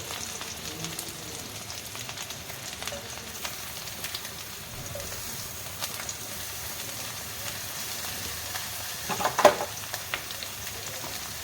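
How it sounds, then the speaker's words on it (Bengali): Onions sizzle steadily in a hot pan with half-fried vegetables for a rohu fish curry, a soft continuous crackle with a brief clatter of utensils near the end. "এবার পেঁয়াজটা দিয়ে এগুলোকে ভালো করে ভেজে নিচ্ছি"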